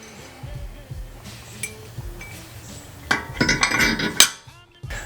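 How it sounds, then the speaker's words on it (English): Wheel studs being knocked out of a car hub while fitting wheel spacers, with scattered light metallic taps followed by a louder burst of clanking and a sharp metal strike near the end. "We're going to remove these 2 studs."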